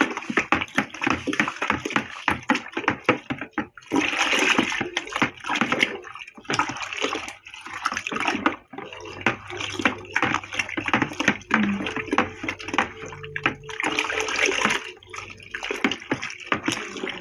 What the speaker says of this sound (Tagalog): Kailangan halu-haluin maigi para siya matunaw.